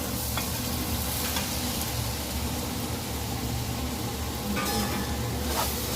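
Rice stirred into a pot of fried country chicken for pulao, with a steady sizzling and scraping hiss running throughout, close and continuous with no talk.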